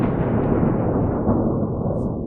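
Steady rumbling bursts of artillery fire trying to shoot down drones over Kyiv, loud and continuous like distant explosions blending together, with no voices.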